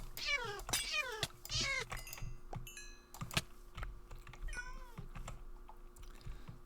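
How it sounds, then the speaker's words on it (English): Cats in the SevTech: Ages game meow and yowl in several drawn-out calls, faint and mixed with computer keyboard typing and clicks. "that sounds like I've got some demon cats around"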